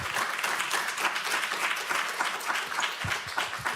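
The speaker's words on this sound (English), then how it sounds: "A round of applause for our panelists." An audience at a public health forum claps for its panelists, a dense, sustained wash of many hands heard from a moderate distance, with a few louder nearby claps toward the end.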